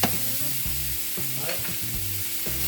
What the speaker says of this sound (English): a little bit of water from the tomatoes, that's what you hear sizzling